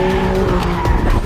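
Car tires skid and squeal as the vehicle speeds off in a movie chase scene, a loud, continuous screech over a rumbling engine for just over a second, with no voices.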